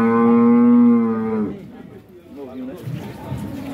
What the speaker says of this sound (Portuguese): uma vaca bacana do amigo aqui, ó